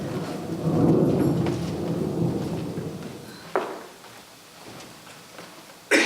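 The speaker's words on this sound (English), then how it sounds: "Sounded like thunder?" Thunder rumbles low and heavy before a storm, a long rolling swell that fades, followed by a couple of sharp cracks, with no voices.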